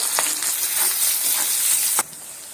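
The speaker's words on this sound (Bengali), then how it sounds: "পেঁয়াজগুলোকে আমি তেলের মধ্যে দিয়ে সুন্দর করে একটু লালচে রং ধরিয়ে ভেজে নেবো" Finely sliced onions fry in hot oil for egg biryani, a dense close sizzle that drops abruptly in level near the end.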